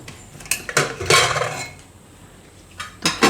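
Metal clatter and clinks as a pressure cooker of boiled raw bananas is opened and its lid and vessels handled, a few sharp bursts with a longer rattling spell in the middle, close and alone.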